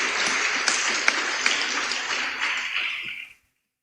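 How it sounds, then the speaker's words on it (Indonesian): A young congregation applauds, steady dense clapping with a few sharper individual claps standing out, holding for about three seconds before stopping abruptly into silence. "Tepuk tangan dulu kawan-kawan muda."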